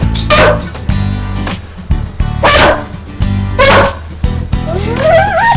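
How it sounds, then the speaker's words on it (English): A dog barks in repeated bursts, with high whimpers and whines between them, sounding close by in a room. "You can hear my dog in the back."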